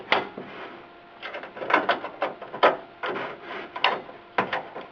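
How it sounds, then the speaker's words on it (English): Screws being driven to mount a heavy reference Radeon 7870 GHz Edition graphics card into a dusty PC case, heard as a series of close, scraping and clicking bursts of metal against metal in an uneven rhythm. "I'm going to hold the card up just a little bit so that it's sitting flat when I install the screws"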